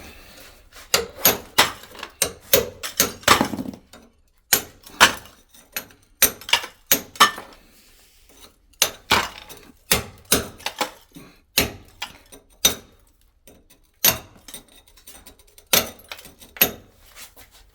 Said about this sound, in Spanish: La única forma de quitarlo rápido es maza y cincel. Y empezar a darle.